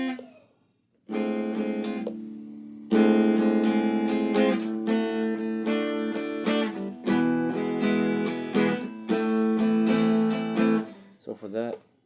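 An acoustic guitar strums chords for a song line. The strokes are loud and close, in a rhythmic pattern with short pauses between phrases, and no voices are heard.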